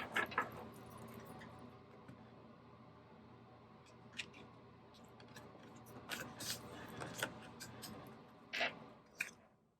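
Soft papery riffling and light clicks of tarot cards being shuffled, close and quiet, in irregular bursts.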